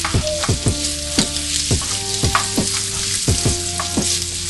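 Cornstarch-coated chicken stir fries in a hot pan, a loud continuous sizzle broken by regular rhythmic scrapes and tosses of the spatula, with no talking.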